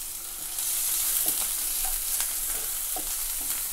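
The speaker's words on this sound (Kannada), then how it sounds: "ಆನಿಯನ್ನ ಹಾಕ್ಕೊಂಡು ಲೋ ಫ್ಲೇಮಲ್ಲೇ ಫ್ರೈ ಮಾಡ್ಕೊಳ್ಳಿ." Chopped onions and chilli frying gently in a pan over a low flame for restaurant-style chana chilli, a steady soft sizzle with a few faint stirring clicks, close by and without talk.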